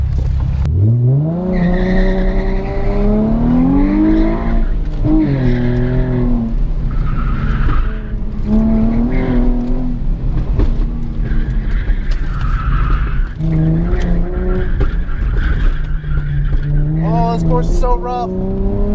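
A Nissan 350Z on an autocross run at an ice skating rink, its engine revving and rising in pitch through repeated accelerations with tires skidding, loud and close throughout over the full run.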